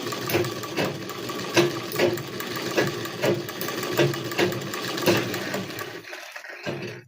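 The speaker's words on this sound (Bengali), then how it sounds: "এরপরে আমি সেলাই করে তোমাদের দেখাবো" A sewing machine stitches fabric in a steady, rapid mechanical chatter with rhythmic pulses, running close and loud before stopping near the end, then restarting briefly.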